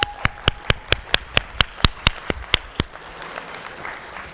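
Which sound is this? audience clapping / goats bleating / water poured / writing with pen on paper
audience clapping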